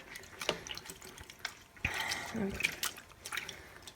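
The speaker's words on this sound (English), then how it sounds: "just going to add a tiny bit more water to this" Water trickles and splashes into a walnut dye pot holding 4-ply yarn, close by and fairly faint, with soft drips and sloshing under a brief spoken word.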